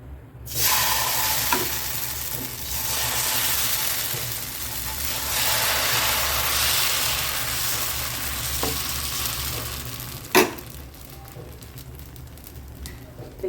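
Rava dosa batter sizzling on a hot pan, a broad continuous hiss that swells and eases, with a sharp clink near the end and no talking.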